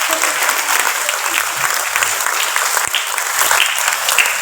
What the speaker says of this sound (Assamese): হাত চাপৰি বন্ধ হ'ব নালাগে।